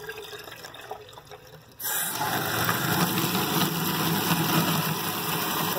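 Water runs from a tap in a Bernoulli and Coanda effect demonstration, the stream lifting a weight; it starts abruptly after a quieter stretch and then pours steadily and fairly loud.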